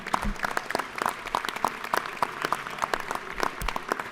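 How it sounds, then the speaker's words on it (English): Members in a state House chamber give a round of applause to guests from a golf course, individual claps standing out clearly in a loose, moderately sized clapping crowd. "give a round of applause to our friends over here with the golf"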